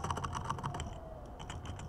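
Brisk typing of a command on a computer keyboard, a close burst of crisp key clicks followed by a few softer scattered taps.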